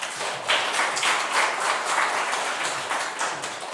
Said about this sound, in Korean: 따뜻한 축복의 박수로 환영하도록 하겠습니다.